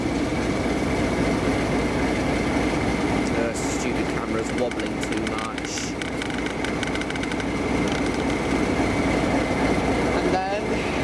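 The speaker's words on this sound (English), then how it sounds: "Train's about to depart. Just gonna film it leaving." A train on the Kent and East Sussex Railway rumbles steadily while departing, a continuous low drone with scattered clanks, as a person speaks briefly over it.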